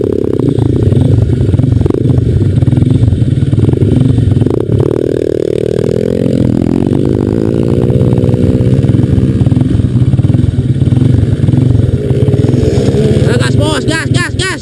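A motorcycle climbs the steep Tanjakan Love hill at Pangheotan, Cikalong, its engine loud and close, straining continuously as its pitch rises and shifts.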